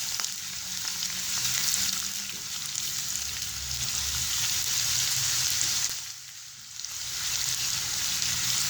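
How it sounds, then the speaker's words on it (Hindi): Onions frying in hot oil for a vegetable noodle dish, a steady close sizzle that holds throughout and dips briefly near the end, with no talking. "प्याज को पहले हम अच्छे से फ्राई कर लेंगे।"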